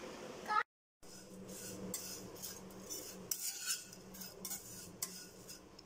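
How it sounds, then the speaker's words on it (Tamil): Flattened rice (aval) being dry-roasted in a pan for aval kesari, heard as a continuous scraping and rustling of a utensil stirring against the metal, with a brief silent gap near the start and no speech. "ஸோ அவல் கேசரிக்கு வந்து அவலை வறுத்துட்டு இருக்கேன்."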